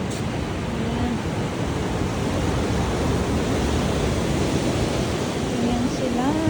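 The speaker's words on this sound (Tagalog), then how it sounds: "Ang sarap pakinggan ng ano? Ng alon." Ocean waves at a fishing pier give a loud, continuous wash of surf that fills the scene, with faint tonal sounds drifting through.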